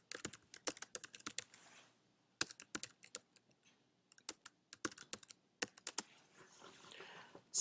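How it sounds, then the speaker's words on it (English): Someone types on a computer keyboard, producing sharp, close key clicks in uneven bursts with brief pauses between groups of keystrokes. "I'm going to type the header"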